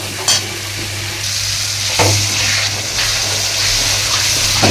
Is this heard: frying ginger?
yes